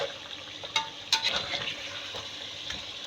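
Onions frying in a pan for shahi korma make a steady sizzle, with a few louder clinks and stirring scrapes near the start, heard alone at moderate loudness.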